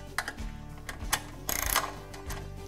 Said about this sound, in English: You take your 10mm socket